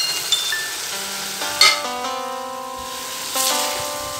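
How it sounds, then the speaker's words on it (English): Eggs going into a capsicum gravy frying in a pan, a soft sizzle with stirring and a few brief clatters, and steady tonal music running underneath. "Now we can add eggs."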